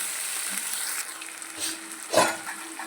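Tomato pulp sizzles in a pan while prawn curry is being made, a steady close hiss of frying with occasional brief stirring scrapes and bumps, no voices.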